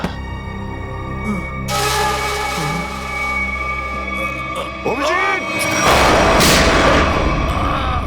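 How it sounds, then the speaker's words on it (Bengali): Gunfire in a CID crime drama, booming shots and bursts over a dramatic music score, with voices and a rising swell of noise toward the end. "দয়া, তোমার গুলি লাগলো?"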